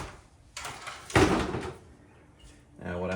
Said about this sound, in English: set your door panel aside.